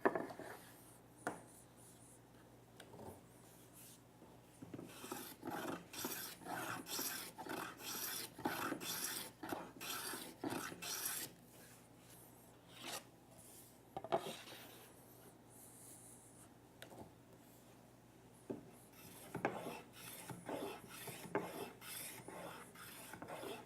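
A hand tool shaves curled ribbons from the end grain of a wooden tabletop being squared and surfaced, a run of close, dry rasping strokes in irregular bursts with short pauses, and no talking.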